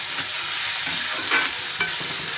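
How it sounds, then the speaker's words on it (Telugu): Onions frying in a pan for a Telugu tomato gravy curry, a steady loud sizzle with faint stirring scrapes, close and continuous with no talk. "ఇలా ఉల్లిపాయలు కొంచెం వేగించామండి."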